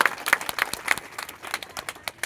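An audience claps at the inauguration ceremony of the Yogiraj credit society, producing dense, irregular bursts of hand claps that run steadily at moderate loudness with no clear talk over them.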